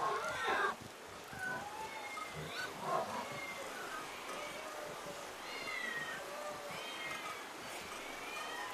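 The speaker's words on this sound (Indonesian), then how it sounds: "Kenapa ada banyak kucing di sini?" Several cats meow repeatedly at an ancient Egyptian temple in the city of Bubastis, their cries rising and falling in a steady chorus, moderately close with no talking.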